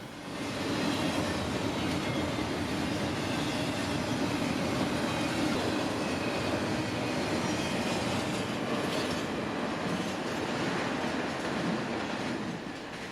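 A long high-priority intermodal freight train over 10,000 feet long, carrying FEC and Crowley containers, rolls past in Folkston, Georgia, giving a steady, unbroken roar of wheels and railcars with faint squeals throughout.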